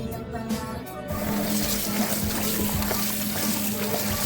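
Running tap water pours steadily while something is washed under it, a continuous close splashing gush that starts after a brief quieter moment.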